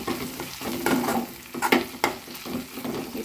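Prawn curry masala fries in oil while being stirred, soft sizzling under irregular scraping strokes of the spoon, quiet and close.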